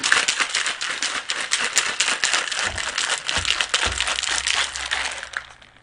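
Ice rattles hard inside a cocktail shaker while a martini is mixed, producing a long run of rapid, loud crunching clatters in a steady rhythm that stops abruptly at the end, with no talking.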